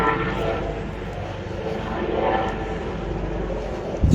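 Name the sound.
helicopter flying overhead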